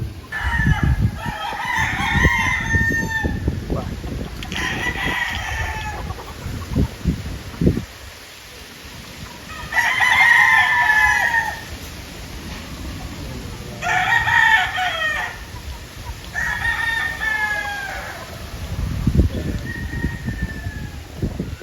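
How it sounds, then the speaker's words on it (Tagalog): Several rooster crows ring out one after another, with hens clucking and scratching in between, moderately close, over a rustling outdoor farm background. "Ilan lang ito sa mga manok ni Sir Borgie"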